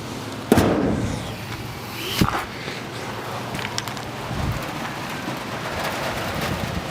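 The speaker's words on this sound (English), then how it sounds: "it's raining on us now" Steady rain pattering on surfaces outdoors, including a Dodge Charger General Lee, with a couple of sharp knocks and bumps breaking through the continuous wash of drops.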